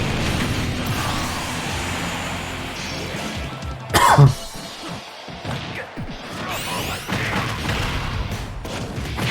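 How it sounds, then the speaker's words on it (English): A single harsh cough bursts out loudly over quieter game sounds, followed by softer throat noises. "I have a bad cough and it's gonna provoke it"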